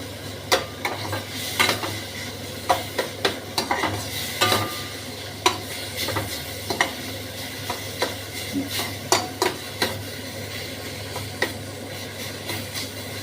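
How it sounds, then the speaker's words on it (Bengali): Raw mango curry with spices and dried chili powder stirred in a pan: irregular scraping strokes and clinks of the spoon over a soft, steady sizzle, close and moderately loud, with no talking. "আবার নাড়ানাড়ি করবো এই মশলার সাথে"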